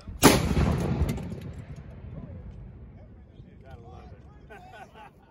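A French 75 field gun fires once at close range, a sharp, heavy blast that rings and decays over several seconds, with a voice talking faintly afterward.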